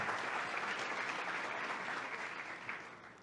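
An audience at a seminar claps steadily for a speaker, with dense applause holding throughout and easing slightly toward the end.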